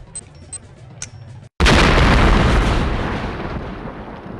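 A bomb goes off in The X-Files video game: after a few faint beeps and a brief silence, a huge loud blast erupts and rumbles, slowly fading.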